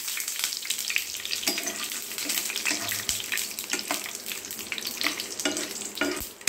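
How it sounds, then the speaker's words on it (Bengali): Groundnuts frying in about one and a half tablespoons of white oil in a pan, a steady close hiss of sizzling with scraping stir strokes and clinks throughout, no talking. "এইভাবে আমি এটা গ্রাউন্ডনাটটা ভাজা হচ্ছে"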